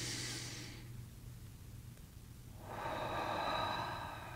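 A slow, deep breath taken during a guided meditation: a soft inhaled rush, a quiet pause, then a longer, fuller breathy exhale, close and alone with no talking.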